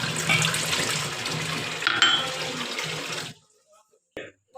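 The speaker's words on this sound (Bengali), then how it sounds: "তাই আমরা জলটা নিয়ে নিচ্ছি চায়ের জন্য।" Tap water runs steadily into a container being filled for making tea, a close, continuous splashing gush that stops abruptly near the end, followed by brief quiet handling sounds.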